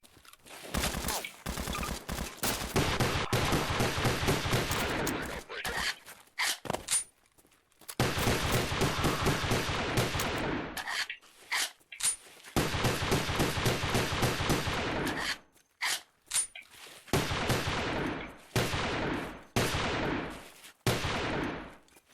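Gunfire in Garry's Mod comes in long, loud bursts of rapid automatic shots, broken by brief silences and several isolated single shots.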